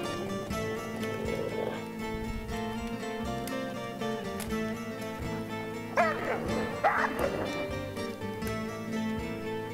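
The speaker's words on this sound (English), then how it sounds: "I am right into a bit of a fight, obviously, with some of the stranger wolves" Wolves in the WolfQuest 3 video game bark, yip and whimper in short bursts during a fight, heard over a steady bed of game music and ambience.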